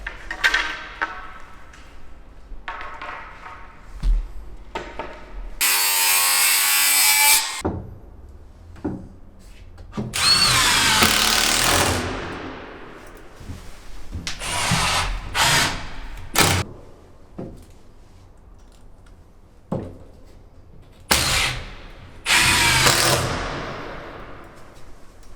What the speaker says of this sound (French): Je vais découper mes deux planches.